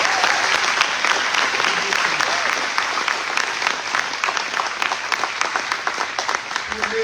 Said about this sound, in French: j'aimerais entendre un grand applaudissement pour les finissants